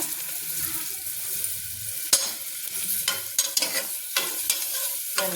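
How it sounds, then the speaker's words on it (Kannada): Finely chopped onions fry in a pan for foxtail millet pulao, a steady close sizzle broken by several sharp scraping stirs of a spoon against the pan, with no talk. "ಈರುಳ್ಳಿ ಕಟ್ ಮಾಡ್ಕೊಂಡ್ಬಿಟ್ಟಿನ ಸಣ್ಣದಾಗಿ ಹಚ್ಚಿದ್ದೀನಿ ನೋಡಿ ಇವಾಗ ಫ್ರೈ ಮಾಡೋಣ ಅಂತ"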